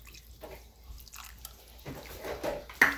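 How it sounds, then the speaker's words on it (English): Reserved pasta water poured into feta cheese, a soft wet trickle and dribble that builds toward the end with a faint splash, close and quiet. "Now I'm going to add my preserved water that I got from the pasta into the feta."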